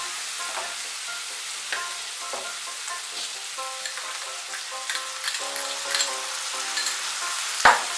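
Garlic paste fries in a pan while being stirred, a gentle crackling sizzle with scraping strokes, brief faint tonal clinks, and a sharp knock near the end.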